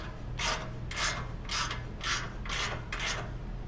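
Bolt being turned into a 2005-2023 Toyota Tacoma frame during rock slider installation, six rhythmic ratcheting bursts about half a second apart, close and clear.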